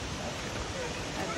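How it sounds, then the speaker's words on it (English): A creek roars steadily beside a forest hiking trail on the way to a waterfall, a continuous broad rushing wash heard at a moderate distance. "You can probably hear the creek roaring over to our right."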